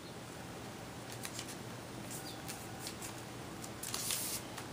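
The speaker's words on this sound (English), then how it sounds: "just take 3 pieces of tape, 1 in the middle, and then 1 on either side." Several short, crisp tearing sounds of tape pieces being ripped off a roll over a faint background hiss, with the loudest tear near the end.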